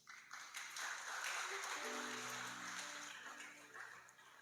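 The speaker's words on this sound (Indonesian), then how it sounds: "Tepuk tangan bagi Tuhan Yesus" Applause from a church congregation during a worship service swells and holds steady, a broad wash of clapping hands with some faint voices and a low tone underneath.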